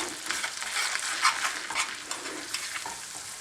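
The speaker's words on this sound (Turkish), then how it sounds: "Bir çay kaşığı kadar da tuz atıyorum. Karıştırıyoruz." Salted cauliflower sauce with chili flakes being stirred in a pan, a steady soft scraping and sizzle running throughout at moderate level with small peaks of spoon movement, no voices.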